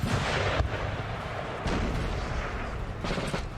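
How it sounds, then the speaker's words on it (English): Artillery fire from a Napoleonic-era battle in the game Napoleon Total War 3, with heavy booming volleys rolling in dense bursts, loud and sustained over distant battlefield noise. "the artillery is starting to come into play for the French now"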